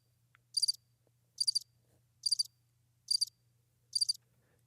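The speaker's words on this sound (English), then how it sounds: "there's also crickets" Crickets chirp in five evenly spaced, shrill pulsing bursts about a second apart, clear and alone against a quiet low hum.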